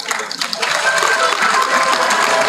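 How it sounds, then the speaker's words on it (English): Loud, close applause from an audience at a college ECE department event, a dense burst of clapping filling the whole short stretch. "so we all have a big clap."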